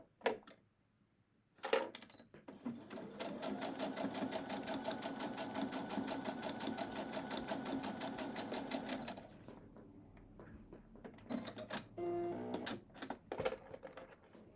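A sewing machine runs steadily for about seven seconds, stitching a quarter-inch seam on a Snail's Trail quilt block, with a fast, even mechanical chatter. A few sharp clicks and handling sounds come before and after.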